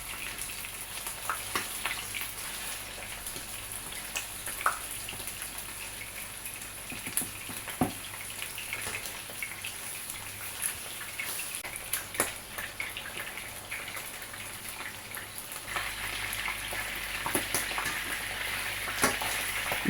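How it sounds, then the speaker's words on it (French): Salt cod frying in a pan gives a steady, close sizzle with soft crackles that runs the whole time and grows a little louder near the end, with no talking. "Je commence donc à frire la morue."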